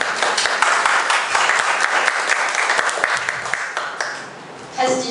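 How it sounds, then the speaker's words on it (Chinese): Audience applause at a Kaohsiung self-introduction meetup fills the room, a dense steady wash of many hands clapping for about four seconds, then fading as a voice begins to speak near the end. "我们掌声欢迎"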